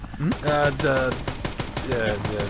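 Rapid machine-gun fire from a helicopter in Dead Rising Deluxe Remaster rattles in dense bursts under game music and voice, steady and close across the short span.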